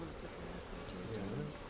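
Honey bees buzz around homemade hive equipment during an outdoor beekeeping lesson, a faint, steady droning hum with a low murmur of activity beneath it.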